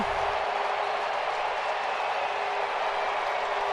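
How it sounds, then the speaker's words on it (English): A packed ballpark crowd roars after the Washington Nationals' walk-off win over the Houston Astros, a dense, steady wall of cheering and clapping that holds at full volume throughout. "Listen to this crowd, Bob."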